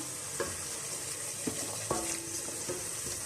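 Spices frying in a pan for saag, with a soft continuous sizzle broken by several sharp scrapes of stirring at irregular intervals, close by and fairly quiet.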